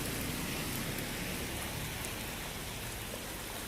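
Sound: heavy rain

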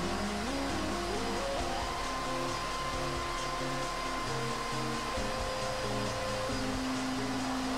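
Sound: hair dryer drying permed hair

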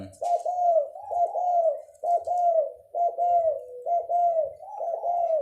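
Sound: dove cooing

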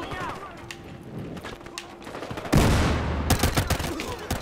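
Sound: pistol gunfire in the video game Battlefield Hardline

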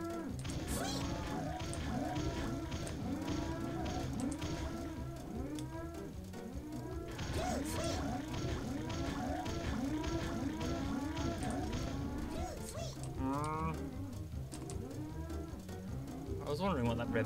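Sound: cow mooing in South Park video game

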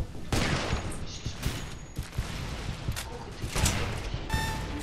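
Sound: gunfire in the video game Warface

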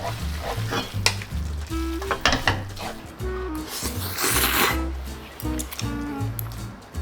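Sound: stir-frying and tossing japchae with chives in a pan

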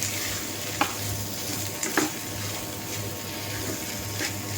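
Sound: frying dried chilies and mashed potato together

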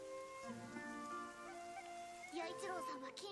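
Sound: rain falling in anime Uchouten Kazoku

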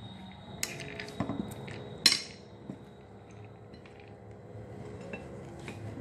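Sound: mixing chana dal salad with spoon in bowl

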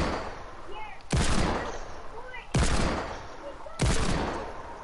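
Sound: gunfire in a video game

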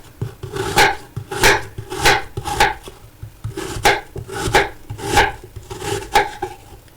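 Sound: knife dicing apples into cubes

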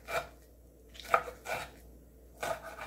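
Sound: knife chopping soaked outer cabbage leaves (ugeoji) on a board

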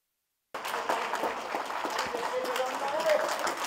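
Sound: audience applause at political speech

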